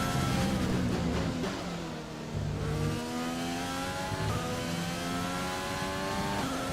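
A racing car's engine in a video game sounds sick and failing, a continuous strained drone with rising and falling revs and gear-shift dips, steady and close with no talk over it.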